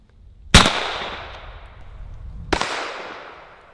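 Two 12-gauge shotgun blasts fired with Texoma Precision number 4 shot shells at close range, each a sharp, loud crack with a long decaying tail, the first at about half a second and the second two seconds later.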